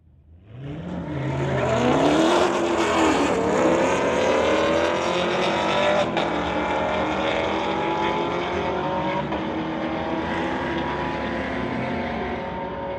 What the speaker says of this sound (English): Harry Witter in the Corvette going against Julia Fisher in the 2018 Chevy Camaro.